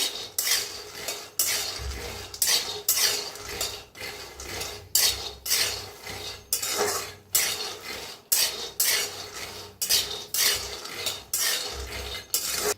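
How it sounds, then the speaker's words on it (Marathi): Peanuts being roasted and stirred in a pan, with repeated rhythmic scraping and rattling strokes of the utensil close up and nuts tumbling against the metal. No talking is heard. "आता शेंगदाणे चांगलं भाजून घेतलेलं आहे।"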